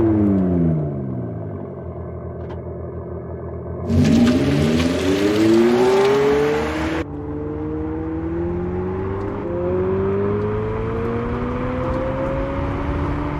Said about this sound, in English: which faithfully reproduces the sound of an Abarth petrol engine.